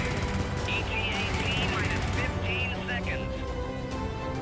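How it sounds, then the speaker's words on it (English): Turret gunfire in the video game Helldivers forms a steady, dense stream of shots under a continuous wash of game noise. Warbling electronic chirps and effects sound over it throughout. "Hopefully the turret caught him."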